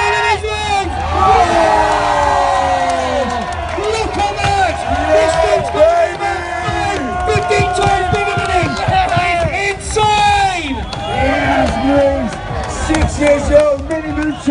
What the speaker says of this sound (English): Come on, crowd, let's cheer him up